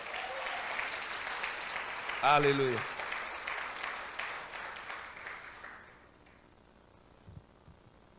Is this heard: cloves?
no